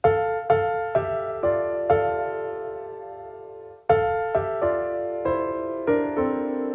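A melody is played in harmony on a piano-like instrument, each note sounded with a lower harmony note, across two short phrases with a pause between.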